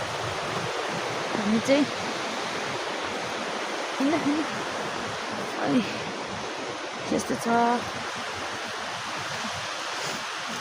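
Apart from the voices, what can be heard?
flowing river stream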